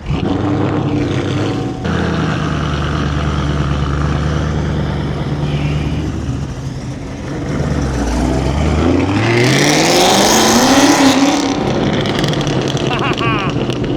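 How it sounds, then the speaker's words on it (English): A Chevrolet Camaro 1LE rumbles nearby, then revs hard and pulls away with a rising engine roar, while people talk and cheer over it. "Now we're going to watch you take off, Dave."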